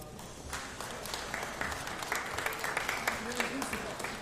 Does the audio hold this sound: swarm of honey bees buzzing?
no